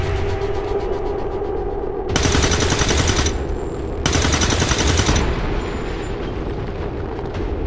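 Gunfire in the video game XCOM 2 War of the Chosen: two loud sustained bursts of rapid automatic fire, each lasting about a second, over a dense rumbling game soundtrack.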